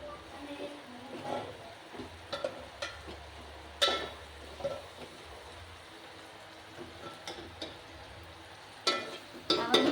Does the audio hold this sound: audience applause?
no